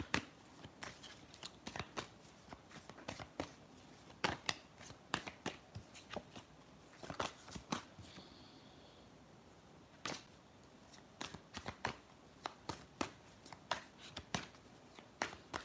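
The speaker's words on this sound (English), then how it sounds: "if you hear some shuffling, I'm just taking the energies of the collective out of the cards" Tarot cards being shuffled in repeated crisp bursts of riffling and snapping, close and fairly quiet, with brief pauses between rounds.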